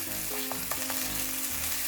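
Ground beef with gochujang stir-frying in a pan, a dense close sizzle with scraping stirring strokes and a few clinks, brief and continuous with no voices.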